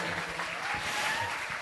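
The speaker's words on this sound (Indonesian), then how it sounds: "Tepuk tangan untuk Mas Reza." An indoor audience at a religious school graduation event claps for Mas Reza, giving a short, dense burst of applause that holds steady for about two seconds.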